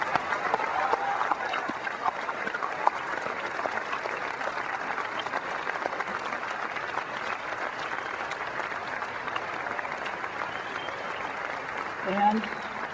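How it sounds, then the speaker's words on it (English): Large keynote audience at Macworld New York 2001 applauding steadily for the whole stretch, a dense, even roar of many hands with a slight swell near the end. "giving them a round of applause for bringing us these"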